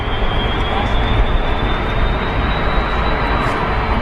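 An airliner engine spools up during start-up at London Heathrow, a steady broad roar with a faint rising whine above it, loud and continuous for the whole short stretch.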